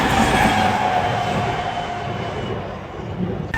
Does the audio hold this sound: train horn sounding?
yes